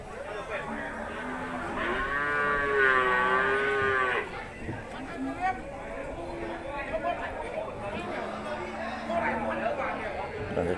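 Cattle low at a rural livestock market in Kusuman, Sakon Nakhon, Thailand, with one long, loud moo rising and wavering near the start, then shorter, quieter calls further off over a steady murmur of crowd chatter and people talking.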